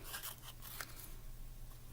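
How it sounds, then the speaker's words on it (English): Scissors snip through paper, cutting it into squares, with a few quick, faint crisp cuts close by in a quiet room. "You can tear them or you can use the scissors to cut them."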